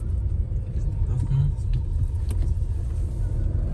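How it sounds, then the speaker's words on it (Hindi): A car climbs slowly uphill on the road toward a hill station near Rishikesh, its engine a steady low rumble with road noise throughout, close and continuous. "अभी तो मैं स्लोली गाड़ी चला रहा हूँ"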